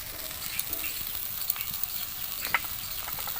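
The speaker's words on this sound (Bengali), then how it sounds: "আবারও আমি একটু ভালো করে নাড়াচাড়া করে নেব।" Spice masala for dhaba-style chicken bharta with Kashmiri chilli powder sizzles in a pan while being stirred, a soft continuous frying hiss broken by faint scraping clicks of the spoon, close and quiet.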